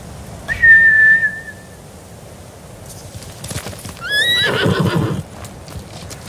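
Horses in the Ghost of Tsushima video game whinny loudly and shrilly, first one neigh near the start and then a second louder whinny with pounding hoofbeats, set against a steady outdoor background.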